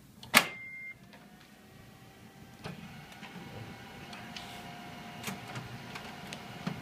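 An HP LaserJet 400 m475dw printer gives a sharp click as its front door shuts, then settles into a steady, low mechanical whir with a few soft clicks and ticks. No one speaks.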